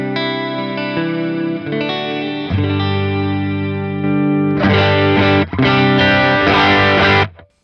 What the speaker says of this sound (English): Here's some reverb.